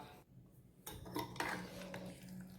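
Cucumber and carrot salad being stirred in a bowl, with a few soft scrapes and clinks of a utensil that grow louder after a brief quiet start, and no voice.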